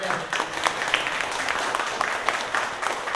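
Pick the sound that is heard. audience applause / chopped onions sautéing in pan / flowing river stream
audience applause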